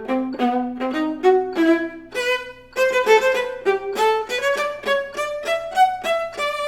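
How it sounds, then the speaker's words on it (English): Melodic excerpt from a high school audition piece played on a pitched instrument at quarter note equals 100, with a steady faint metronome tick under the notes, close and clear with no talk. "So if I play the first line with the metronome,"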